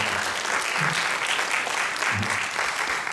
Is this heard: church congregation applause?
yes